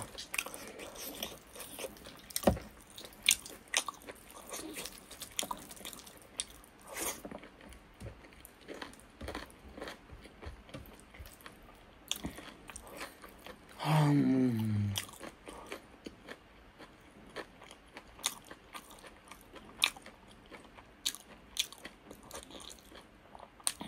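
Someone eats plain rice with gravy chicken curry, fried brinjal and local daal by hand, making soft, close biting, chewing and crunching sounds throughout, with a brief louder scrape midway and no speech.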